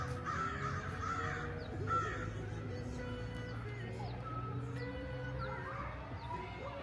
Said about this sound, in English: Some crows up there having a lovely time.